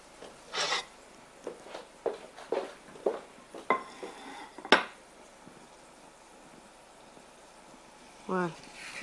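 Eggplant being cut into long pieces on a board for a stuffed eggplant and chard dish, with a handful of sharp knife taps and thuds spaced irregularly, a louder knock midway, and brief talk near the end.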